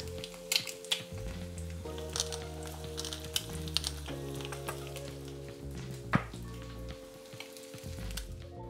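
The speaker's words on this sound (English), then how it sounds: "so you can actually spoon some of the hot oil right over the yolk" Egg frying in hot oil for a party B.L.T., with hot oil spooned over the yolk; a steady close sizzle and crackle with occasional sharper pops and spoon clinks, no talking.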